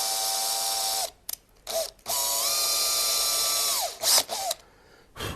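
An electric drill spins slowly in reverse to cut a small starter cup for the bit, whirring in steady bursts separated by short pauses, then a few brief blips near the end.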